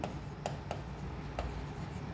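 Marker or chalk strokes on a classroom board during a development administration lecture, a few short sharp scratches in quick succession, close and fairly faint over a quiet room.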